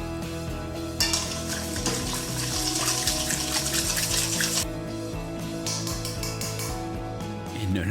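Water poured into a large mixing bowl for bread dough, a splashing gush lasting a few seconds before easing off, heard over steady background music.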